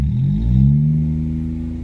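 Deep, loud exhaust rumble at idle from a Hyundai HB20 1.0 turbo (105 hp) with a stainless steel exhaust and remote-opened valve, a steady throaty drone that swells slightly then settles, close by with no talking.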